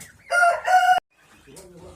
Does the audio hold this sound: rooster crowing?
yes